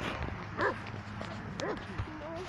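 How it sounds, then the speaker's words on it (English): White dog at a park giving a few short yips and barks, moderately near under steady outdoor background noise, with human voices mixed in. "Let's check out that white dog."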